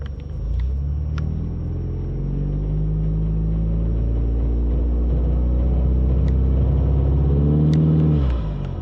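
A Ford Mustang EcoBoost in drag strip mode holds a loud, sustained rev in first gear on launch control, rising slightly before dropping off sharply at the end, close and without talking.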